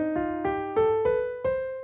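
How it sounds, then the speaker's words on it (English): A C melodic minor scale climbs upward in five evenly spaced, clear notes, each one sustained and ringing into the next, played alone and close. "So this is our melodic minor scale."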